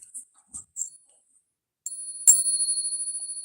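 A cracked-rim Capped Bust silver half dollar of 89% silver and 11% copper is struck in a ping test. A few dull taps come first, then a single clear, sustained high ring that lingers close and alone.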